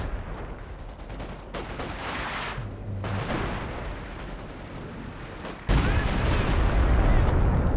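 B4 howitzer shells land in Company of Heroes 2 amid ongoing battle gunfire, with steady rattling fire building before a sudden heavy impact boom and a sustained loud rumble afterward.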